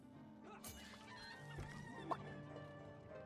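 Short clucking of a chicken in the fantasy role-playing game Divinity: Original Sin, a few clipped fowl calls over a steady musical game background with a brief louder knock near the end.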